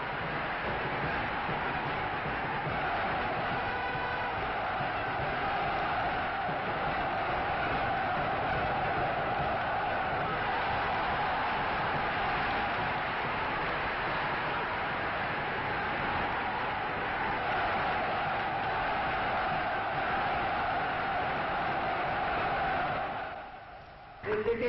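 Large crowd in Algiers awaiting President Auriol, a dense, steady roar of many voices and murmuring that is heard from a distance and holds throughout before breaking off at the end.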